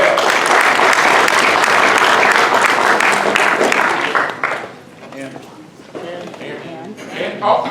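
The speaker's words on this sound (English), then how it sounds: "Y'all give it up for Kevin Hamrick from Montgomery" Audience applause at a high school policy debate tournament final, loud and sustained for about four seconds, then thinning into scattered claps and crowd murmur before a brief swell at the end.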